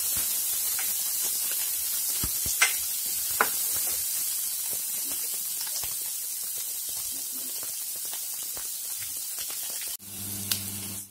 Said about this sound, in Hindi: थोड़ा सा हम अभी से भूनेंगे।